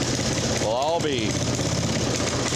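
A Craftsman 5hp rear tine tiller engine runs with a constant, loud, rough drone, and a brief voice cuts in over it.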